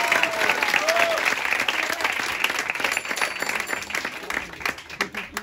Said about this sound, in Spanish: ¡Vamos! ¡Aplausos!